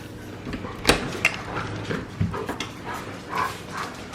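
Puppies whimpering and yipping before a car ride, a run of short high whines and a few soft barks spread through a quiet room, close and fairly faint, with no talking.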